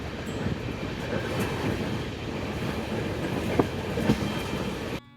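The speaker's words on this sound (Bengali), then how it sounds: "ট্রেন আবার ছুটতে শুরু করলো অন্ধকার রাতের ভেতর।" Netaji Express passenger train running through the night, a steady loud rumble of wheels on rails with faint clicks and a squeal near the end, no voices.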